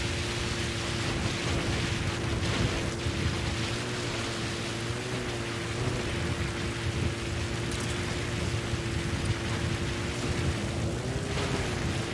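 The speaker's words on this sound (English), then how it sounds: "This rain is not helping." Steady, dense rain hiss fills the scene in the video game Metal Gear Solid V: The Phantom Pain, continuous and unbroken for the whole stretch, with a low droning hum running underneath and no voices.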